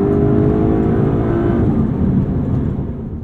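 An Aston Martin DB11's V12 engine accelerating hard, a loud, dense low roar with rising tone heard from inside the car, steady throughout and easing slightly at the end.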